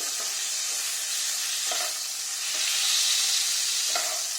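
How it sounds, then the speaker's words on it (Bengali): Chicken fries in oil with a steady, loud sizzle and a few soft scraping stirs, no one speaking. "অল্প একটু নুন দিয়ে এবার চিকেনটা এই তেলের মধ্যেই আমি"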